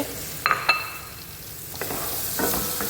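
Minced garlic frying in a pan for koshari, a soft steady sizzle with a few sharp metallic clinks and a couple of stirring scrapes, no voices.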